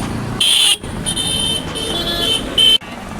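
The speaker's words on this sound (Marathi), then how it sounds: "कुठेही जावा असा हॉर्न तो तुम्हाला कुठे भेटणारच नाही" A vehicle horn on a village car, started with the key, gives two short loud electronic toots framing a steadier buzzing tone in between, close by with no talk over it.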